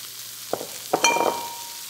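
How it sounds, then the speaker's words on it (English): Faint sizzling of bite-sized aubergine frying with garlic and sesame in a pan, with a couple of sharp stirring clacks, brief and close, no voices. "we're going to get that frying away with our garlic and our sesame"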